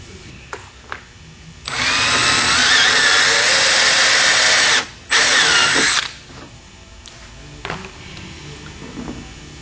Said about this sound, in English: the easiest way to install the tank tube is to drill a